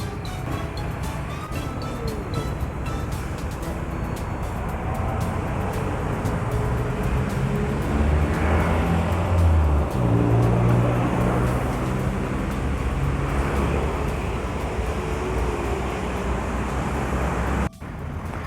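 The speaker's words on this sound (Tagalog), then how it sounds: "Traffic." Road traffic produces a continuous low rumble of passing vehicles, steady and fairly loud throughout, with a brief dip near the end.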